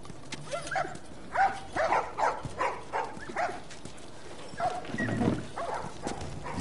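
A dog barks in The Last of Us video game, several short barks in a loose rhythm at moderate distance, mixed with game ambience and no talking.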